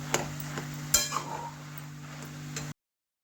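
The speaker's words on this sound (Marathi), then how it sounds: "आता व्यवस्थित असं मिक्स करून घेऊ आणि स्लो गॅसवर तुपामध्ये शिजून घेऊ" Grated carrot halwa cooking in ghee on a low gas flame is stirred, with a few sharp clinks of the spoon against the pan over a soft, steady frying hiss and a low hum. The stirring stops abruptly after under three seconds.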